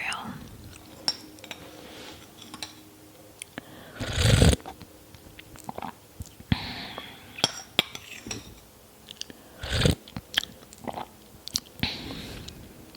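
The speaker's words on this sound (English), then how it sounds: "My favorite part is the last bit of milk that's left after eating cereal." Crunchy cereal with milk is eaten close to the microphone, with soft chewing, spoon clinks against a bowl and a few louder scraping bursts amid quiet mouth sounds.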